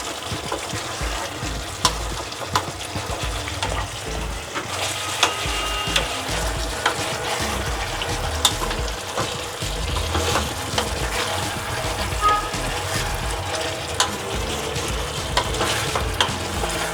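Chicken pieces stirred and fried in a pan for a green hariyali chicken curry, giving a steady close sizzle with frequent scraping and clicking of the spoon against the pan, no talk.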